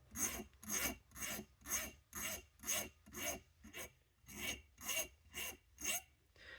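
A steel rivet point is rubbed back and forth across a metal file, giving about a dozen evenly spaced raspy strokes, close and steady, with no talking.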